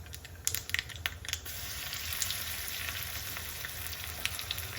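Crushed garlic, mustard seeds and cumin sizzle in hot oil as a tempering, a soft continuous frying crackle with a few sharp pops and spatters early on.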